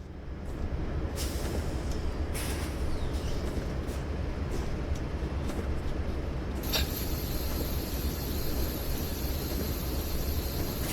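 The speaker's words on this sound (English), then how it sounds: "Ooh, nice compressor noise." A locomotive air compressor in a train simulator game on the Feather River Canyon route gives a steady, dense rumbling hiss throughout, with a brighter, higher whining layer joining about two-thirds of the way through.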